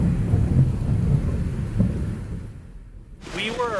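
Heavy rain pours steadily while thunder rumbles low and loud throughout, outdoors at a festival in Canada; a voice briefly starts up near the end.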